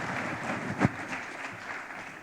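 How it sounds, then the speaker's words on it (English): Audience applause at a keynote forum on artificial intelligence and economic development, a steady, moderately faint wash of clapping from a seated crowd throughout. "Please, another round of applause for Dr. Gill."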